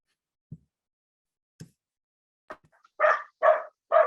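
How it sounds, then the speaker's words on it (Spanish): A pet dog barks indoors: a few sharp isolated woofs spaced apart, then three louder, fuller barks in quick succession, close and otherwise quiet. "así que perdón por los ladridos"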